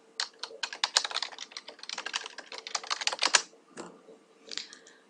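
Rapid bursts of computer keyboard typing as a web address is entered, crisp close keystrokes in quick runs with brief pauses, fairly quiet overall and without talk.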